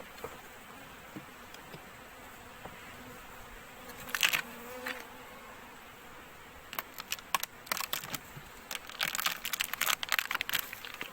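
A soft, steady buzz of honeybees during a cold-weather hive inspection runs throughout, interrupted by bursts of sharp clicks and scraping knocks as empty frames are handled, loudest toward the end.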